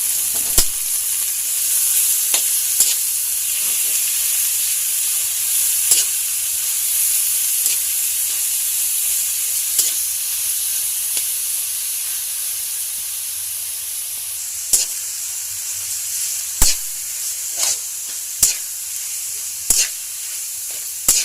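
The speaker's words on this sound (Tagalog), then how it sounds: "Igisa lang natin siya sa until luto" Ground pork sizzles steadily in a hot pan as it is sautéed for ginisang ampalaya, a continuous bright hiss punctuated by occasional clicks and stirring taps, with no talking.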